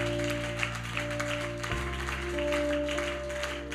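A church congregation clapping steadily during worship, dense applause layered over a sustained organ-like drone and tonal music.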